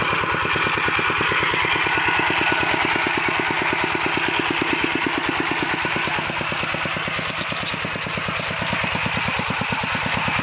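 A loud, rough old tractor engine chugs at a steady fast rhythm, knocking and rattling continuously nearby with no talking.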